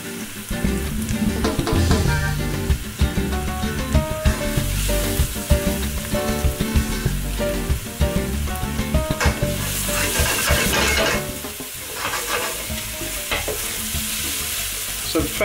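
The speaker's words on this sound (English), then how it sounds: "So the fresh herb, the onions and the garlic have been cooking for about 8 minutes, 9 minutes now" Onions, garlic and fresh herbs sizzle steadily in a pan with a dense, continuous crackle, close and fairly loud, broken by frequent clatters of a utensil stirring and scraping through the mix.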